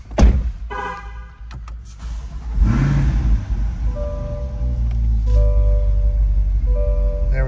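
A 2020 Chevrolet Corvette 2LT Z51 engine cranks and fires up, settling into a loud, steady idle rumble after a door closes and a few chimes sound inside the car.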